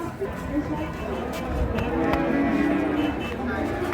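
Cattle low at Hazratpur market, a livestock sale of cows for Qurbani, amid a busy outdoor crowd, with people talking all around and a steady murmur of market noise.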